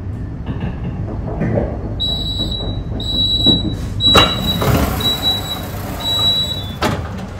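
An RNB locomotive hauling a train passes a station, with a continuous rumbling roar of wheels and engine and recurring high whistle-like tones layered over it, loud and close throughout.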